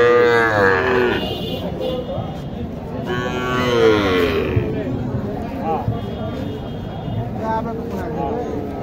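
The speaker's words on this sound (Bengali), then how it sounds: "এখানে একটি চমৎকার একটি গরু আছে।" A Sahiwal cow at a rural cattle market in Naogaon, Bangladesh, gives long, drawn-out moos, with a loud call near the start and another midway, over steady crowd chatter and nearby voices.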